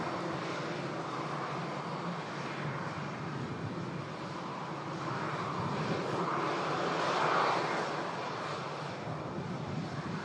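An EasyJet Airbus A319 coming in to land at Manchester Airport during a storm, its engines a broad, steady roar that swells slightly toward the end, with no talking.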